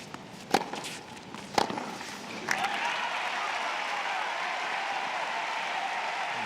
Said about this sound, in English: Start to hear some of the applause in support of the other guy on the court, Andre Agassi.